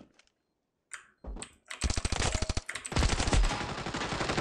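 Gunfire in the mobile shooter Standoff 2, rapid bursts of sharp cracks in quick succession, loud and close, with clicks before the shooting starts.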